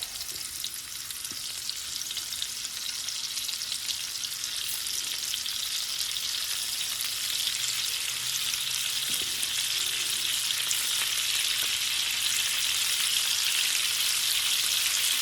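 Shrimp frying in batches in a hot pan for shrimp and grits, a steady broadband sizzle that holds even and fairly loud throughout, with a faint stir or tap now and then and no talking.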